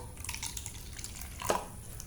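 Hot water is poured over seeds for soaking, making a soft, close trickling and dripping sound with a single brighter splash partway through, quiet and without talk.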